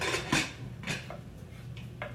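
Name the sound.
closing the lid of a pressure cooker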